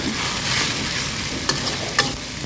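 Egg being stirred with glass noodles and fermented pork in a hot pan gives a steady, close sizzle, with a few sharp scraping stir strokes rising above it and no talking.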